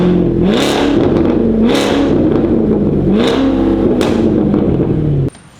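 A tuned Ferrari 488 GTB with a K-line exhaust, downpipes and full tune revs hard four times in a row, each loud blip climbing and falling before the engine cuts to quiet near the end.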